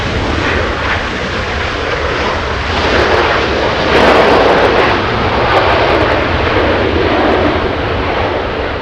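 A Southwest Airlines jet arriving at Los Angeles International Airport. Its engines give a loud, sustained roar that swells slightly midway as it passes close in front.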